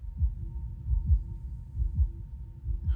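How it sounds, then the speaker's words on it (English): A steady, slow heartbeat sound effect from a TV drama series pulses about once a second, deep and thudding over a low sustained hum, with no voices. "the fucking heartbeat"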